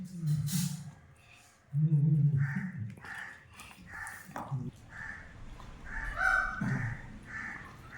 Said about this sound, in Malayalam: മയിൽ കിടന്ന് ഭയങ്കര ബഹളം.